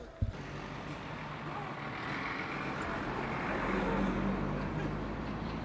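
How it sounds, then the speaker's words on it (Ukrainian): A vehicle drives close behind on a narrow bridge, its steady engine rumble and road noise loud and near, rising slightly as it passes, with a sharp knock at the start. "Вважайте машина ззаді."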